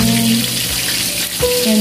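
A pot of bagoong boils on the stove, giving a steady bubbling, sizzling hiss with faint tonal hums underneath, close and continuous for the short stretch.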